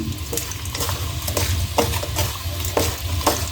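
Small and large shrimp coated in turmeric, chili powder and salt frying in oil in a kadai, a dense steady sizzle with rhythmic stirring scrapes and clinks.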